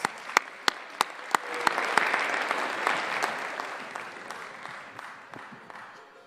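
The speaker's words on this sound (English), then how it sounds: "So let's all give the first flight a big round of applause" Applause for spelling bee teams at an annual competition begins with a few sharp, separate claps, then swells into a fairly quiet, even patter of many hands that carries to the end.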